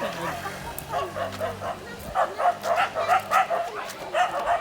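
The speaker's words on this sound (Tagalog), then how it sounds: "Aming aso sa loob." A dog barks indoors in a quick run of short yips and woofs that grows busier in the second half, with a human voice mixed in.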